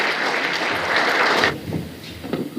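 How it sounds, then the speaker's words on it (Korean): Applause from an audience at a Korean national-security lecture, a dense steady clatter of clapping for about a second and a half before it breaks off, leaving faint room noise and scattered small sounds. "박수 부탁드립니다."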